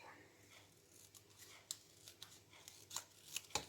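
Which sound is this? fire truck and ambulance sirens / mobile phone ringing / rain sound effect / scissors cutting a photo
scissors cutting a photo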